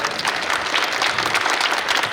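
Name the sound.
applause for the additional collector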